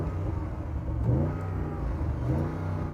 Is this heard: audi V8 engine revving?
yes